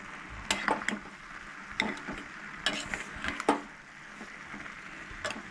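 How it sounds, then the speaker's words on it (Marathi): A spoon stirs and mixes cassia tora leaf bhaji in a pan, making soft scraping and knocking strokes in an irregular rhythm with a light sizzle underneath, close and fairly quiet. "आनी सोय ऍड केल्या उपरांत बरी मिक्स करून घेयात."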